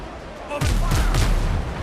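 Ship cannons fire in the video game Windrose: after a quiet moment, heavy booming blasts burst in and overlap into a loud, sustained rumbling barrage.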